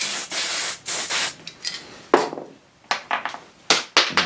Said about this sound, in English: I'll give that a spray before I use it